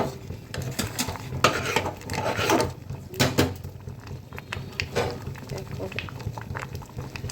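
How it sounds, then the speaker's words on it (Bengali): Ghugni bubbling hard in a pot on the stove, a steady watery burble with several sharp clinks of a utensil against the pot. "দেখো টকবক করে ফুটছে।"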